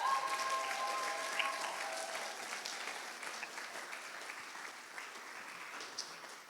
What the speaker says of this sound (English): Can we get a round of applause one more time for both sets of parents here?